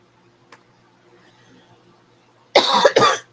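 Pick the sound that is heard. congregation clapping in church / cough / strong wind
cough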